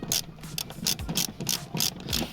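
A ratchet clicks in quick repeated bursts, tightening the front seat belt anchor bolt on a 2014 Kia Picanto, close and alone, with short pauses between strokes.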